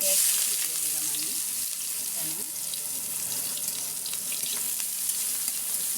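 Dried fish (shutki) curry sizzles and fries in a pan in a home kitchen, a steady, fairly loud crackle that runs the whole time with faint stirring.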